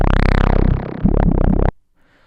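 Dubstep bass synthesized in Ableton Operator, a loud wobbling, sweeping synth tone with pitch swoops that rise and fall, cutting off abruptly before a short quiet tail.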